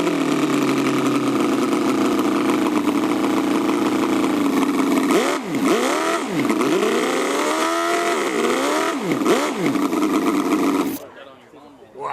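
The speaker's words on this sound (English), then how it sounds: "it's a 1/4 scale copy of a 270 cubic inch Offenhauser" A quarter-scale model copy of a 270 cubic inch Offenhauser engine runs steadily and loudly, with a few quick revs rising and falling near the end before it cuts off abruptly.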